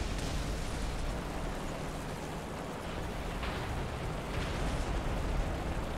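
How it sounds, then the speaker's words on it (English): Bombs exploding across a bombed-out factory area in War Thunder: a steady, dense rumble of distant blasts and crackling debris, with a few sharper bursts standing out near the middle and end. "Bombs and stuff."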